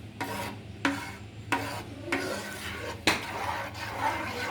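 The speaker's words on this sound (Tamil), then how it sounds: "பாலை ஊற்றிட்டு நல்லா வந்து கிண்டி விட்டுணும்" A spoon stirs and scrapes through jackfruit payasam with milk in a pan, about five distinct strokes roughly a second apart over a low steady hum. The stirring is close and moderately loud, with no talking.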